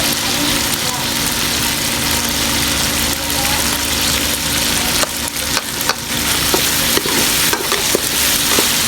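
Potatoes cook in a frying pan for an egg-and-potato breakfast, giving a steady close hiss of frying with occasional clinks and stirring scrapes, a low background hum underneath throughout.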